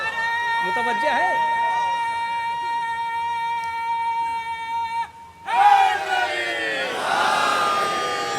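A loud crowd bursts into a chanted religious slogan at an annual Shia majlis gathering, following a long, sustained held voice note. The crowd voices swell and then settle into a steady roar.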